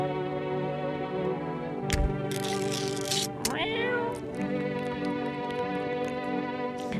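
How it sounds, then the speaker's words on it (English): A cartoonish cat meows repeatedly inside the video game No I'm Not Human, heard close and clear over a steady bed of sustained game music with a brief burst of noise midway. "Let's talk to the kitty. Meow. Pet the cat."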